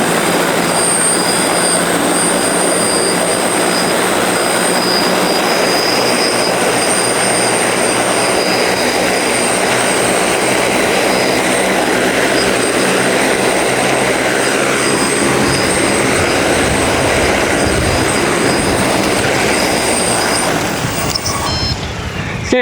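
A large 3D-printed heavy-lift drone flies outdoors in wind, its motors and propellers giving a loud, steady broadband roar with high tonal whine that holds throughout before easing off near the end.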